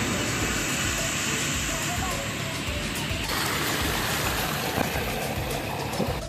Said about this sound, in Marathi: पाण्याचा खळखळाट येतोय